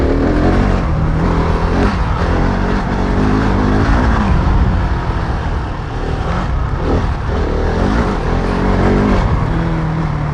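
A Husqvarna 701 Enduro single-cylinder motorcycle engine drones loudly and continuously during a ride, rising and falling with throttle changes and wind rush, heard close up without talk.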